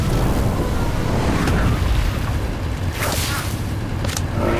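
Incendio fire spell cast in the video game Harry Potter: Magic Awakened, a loud, dense whooshing blast with deep rumble and a few sharp crackling bursts, sustained throughout.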